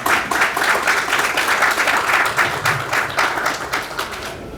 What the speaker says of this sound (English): I think that deserves a big round of applause for him